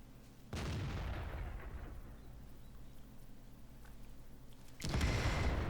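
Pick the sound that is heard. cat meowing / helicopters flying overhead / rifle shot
rifle shot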